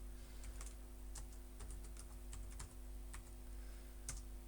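Keystrokes on a computer keyboard while entering vectors in R code, light irregular clicking in short bursts over a steady low hum, close and fairly quiet.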